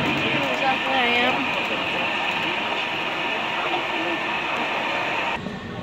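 A model train runs at the Grand Strand Train Show in North Myrtle Beach, South Carolina, giving a continuous whirring rumble with faint squeals amid crowd murmur, then dropping off sharply near the end.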